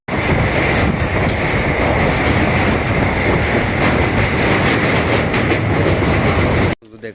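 Train carriages rattle and clatter steadily along the tracks in Nalbari, a loud, continuous roar with rhythmic clickety-clack heard close by, ending abruptly near the close.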